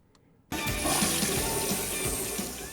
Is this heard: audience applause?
no